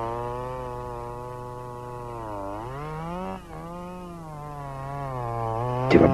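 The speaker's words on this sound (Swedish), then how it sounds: "Det var bara en motorsåg som fäller träd." A chainsaw felling trees gives a steady, buzzing engine drone that holds level, then rises and dips in pitch midway before revving up again at the end, with no voices.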